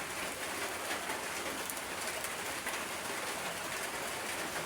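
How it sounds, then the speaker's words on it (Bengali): Heavy rain pours steadily outside a shop, a dense, constant hiss of water on surfaces with no talk. "বৃষ্টির শব্দ শুনতেছেন নিশ্চয়ই টুকটক"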